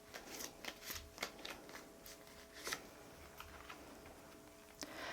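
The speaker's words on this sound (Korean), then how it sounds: "좋은 카드 한번 뽑아볼게요." Tarot cards are shuffled and drawn by hand in a quiet room, giving soft papery riffles and sharp flicks and taps in an irregular rhythm, close and faint.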